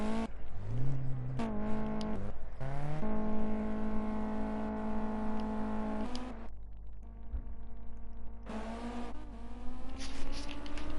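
Caterham Super Light race cars rolling out at Cadwell Park, several engines revving and rising in pitch one after another, loud and close, with overlapping drones and gear changes and no talk.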